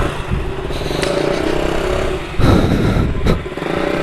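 A motorcycle engine runs steadily after a service, loud and close, with a brief rougher surge and a light clatter partway through.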